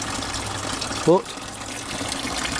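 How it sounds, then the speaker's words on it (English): Water from a pump pours steadily into a garden water barrel, a continuous wash of flow that stays even throughout, with a brief word of speech near the middle. "I'm surprised the pump's working."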